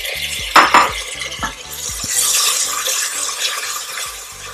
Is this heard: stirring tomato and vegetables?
yes